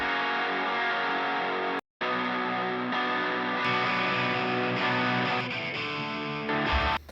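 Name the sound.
electric guitars with different tones left and right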